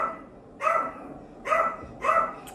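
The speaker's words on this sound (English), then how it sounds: "My dogs, we live on the water, actually see an alligator and they're barking at it." Dogs barking at an alligator by the water, three separate barks spaced about a second apart, fairly close and clear, with no talking.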